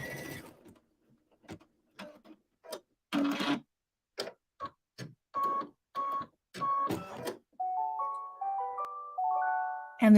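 Close to an embroidery machine, a series of sharp mechanical clicks and thumps comes at an uneven pace. A short electronic melody of rising beeping notes then plays as the stitching finishes.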